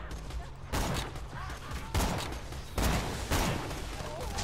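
Gunfire in the video game Borderlands 2: several loud, noisy bursts of shots break out at irregular intervals over a constant busy din of combat.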